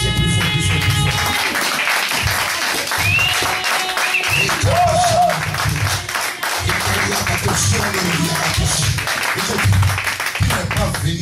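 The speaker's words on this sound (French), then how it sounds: "Applaudissez plus fort, plus fort, plus fort." A congregation applauds loudly in fast, continuous clapping, with a loud voice speaking over the crowd throughout.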